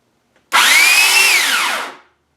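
A Yardworks corded electric pole saw runs alone for about a second and a half, starting abruptly at full volume as a loud, high-pitched motor whine, then sliding slightly in pitch before it winds down and stops.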